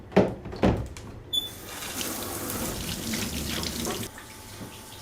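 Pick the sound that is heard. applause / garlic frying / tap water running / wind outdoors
tap water running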